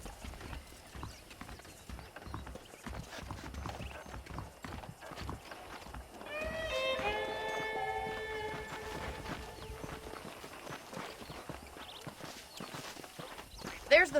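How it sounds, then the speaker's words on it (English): In the Red Dead Redemption video game, horse hooves clip-clop steadily along at walking pace. A horse whinnies partway through, and voices talk over the hoofbeats. "The horses are saddled up over here."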